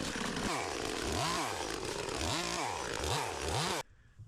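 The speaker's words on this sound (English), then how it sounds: "Brought the top way down, some chainsaw pruning." Chainsaw revs up and down in repeated surges while pruning a fig tree, loud and close, then cuts off abruptly near the end.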